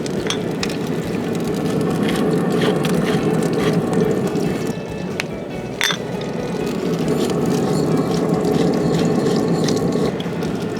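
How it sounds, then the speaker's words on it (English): Continuous dense crackling and popping of food sizzling in a hot pan, with occasional louder clatters of stirring. "you can hear how hot the pan is"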